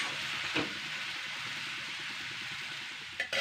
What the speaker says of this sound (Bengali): তো চাউটাকে ভালো করে কিন্তু 4 মিনিট মতন, 4 থেকে 5 মিনিট আর কি হালকা ফ্রাই করে নিচ্ছি